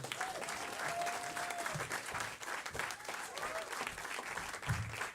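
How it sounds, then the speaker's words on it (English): A live audience applauds to welcome a comedian onto the stage, a dense, steady wash of clapping that holds loud throughout, with a few cheers and whoops rising out of the crowd. "Big round of applause"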